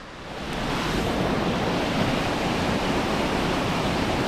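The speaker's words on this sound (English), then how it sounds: "There's a really pretty waterfall here I'm trying to look at through the bridge." A waterfall seen through a bridge gives a loud, steady, continuous roar of rushing water that swells in over the first second and then holds constant, with no voices.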